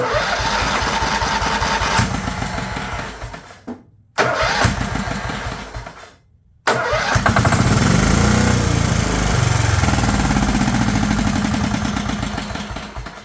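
A free, long-abandoned Scotts / John Deere 20 HP lawn tractor engine cranks and catches, running loud and close with a steady rough drone, briefly cutting out twice before firing back up and running on.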